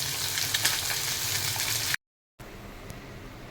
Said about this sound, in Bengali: মাছটা ভাজা হচ্ছে।